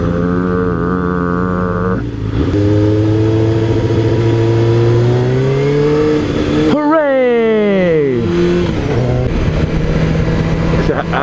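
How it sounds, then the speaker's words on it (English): Road traffic in city streets near the CN Tower, heard from a Yamaha YZF 600R motorcycle, with a steady engine drone that climbs in pitch, a sharp shift midway and another rising rev, loud and close throughout. "This is traffic."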